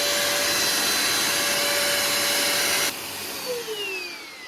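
A vacuum cleaner whirs loudly and steadily nearby, then its motor pitch drops and winds down as it is switched to a lower setting.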